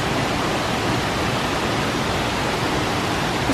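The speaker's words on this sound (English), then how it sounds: "It's just little waterfalls everywhere now." Small waterfalls on a mountain hike in Zugspitzland, Germany, a close, constant broadband rush of falling water with no pauses or voices.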